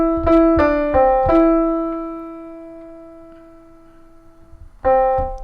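The top melody line of a song is played as a few clean single notes, with quick repeated notes, one long decaying held note, and then two more notes. The sound is clear, close and has no talking over it.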